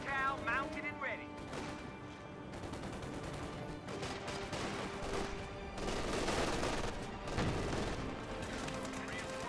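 A mounted .50 cal machine gun firing in the Company of Heroes 2 battlefield, with rapid bursts and scattered explosions in a busy war soundscape, under a voice commenting.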